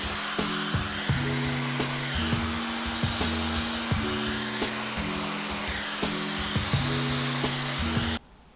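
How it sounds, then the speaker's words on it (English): A steady, loud blowing hum of a hair dryer on a low setting runs continuously with a slight repeating pulse, then cuts off abruptly near the end. "now you're going to get your blow dryer on cool air and just let that dry"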